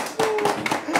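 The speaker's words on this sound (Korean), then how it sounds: "박수" A short burst of hand clapping among a group of K-pop idols, a few quick close claps mixed with voices and laughter in a lively room.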